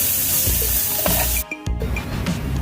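Mango pieces frying with spices in a pan for a mango fish gravy at a camp, a steady loud sizzle with a few stirring clatters and a brief dip partway through.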